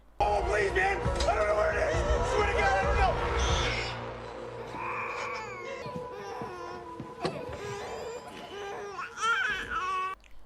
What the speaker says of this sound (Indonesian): mendengar suara tangisan bayi dari kamar lain